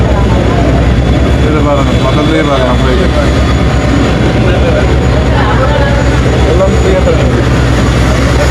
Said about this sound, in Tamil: இதில் பாருங்க, பக்கத்துலேயே பாருங்க ஃப்ளைட்.